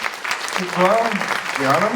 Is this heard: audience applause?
yes